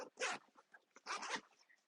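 The zippers on a Mystery Ranch 2-Day Assault Pack with a tri-zip opening are pulled in two quick, close rasping strokes separated by a short pause, with no talking.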